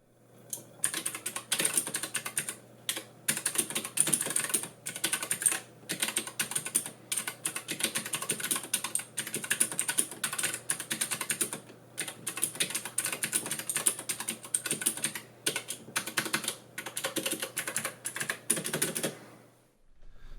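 Typing on an AJAZZ AK60 mechanical keyboard fitted with Cherry Onyx Blue clicky switches: a loud, steady stream of sharp tactile clicks and clacks, close up and alone, in rapid irregular bursts with brief pauses.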